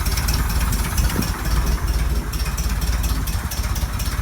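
A 1957 30hp engine idling slowly with the choke on, the lid open and no air filter fitted, not yet fully warmed up; a steady, close, continuous low rumble with a slightly uneven pulse throughout.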